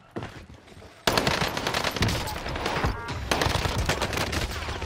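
Rapid automatic gunfire from the video game Warzone on Rebirth Island, a dense, loud, continuous burst of shots that starts abruptly and runs for several seconds with no talking.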